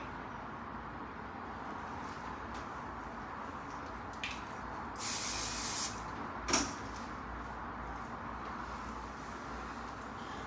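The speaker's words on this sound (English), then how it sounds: "keeping all the hair up with my left, spraying with my right" A single short hiss of hairspray, about a second long, stands out against steady low background noise, followed by a brief knock.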